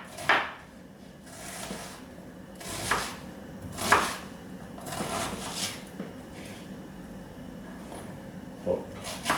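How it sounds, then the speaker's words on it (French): A knife coarsely chops half an onion on a cutting board for spaghetti with prawns, several distinct close thuds at an uneven rhythm against a low background hum. "je prends mon demi-oignon, que l'on peut tailler grossièrement"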